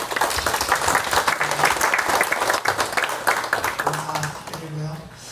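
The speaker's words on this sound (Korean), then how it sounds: "격려 축하의 박수 한번 하겠습니다." Church congregation applauding in encouragement and congratulation during a Sunday worship service, dense sustained clapping for several seconds that thins out toward the end, with some voices underneath.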